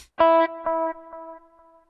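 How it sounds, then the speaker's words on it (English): A guitar through a delay pedal: one plucked note followed by two or three progressively softer, fading repeats that trail off into silence. "You can hear how it's a much softer kind of repeat of what I played."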